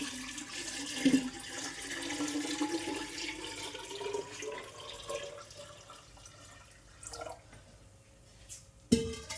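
Water pours and splashes into a clay pot, with a steady liquid rush and a few louder sloshes near the start and end.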